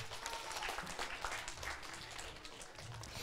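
Applause from an audience at a kindergarten event, a soft, scattered patter of clapping heard at a distance with room noise behind it.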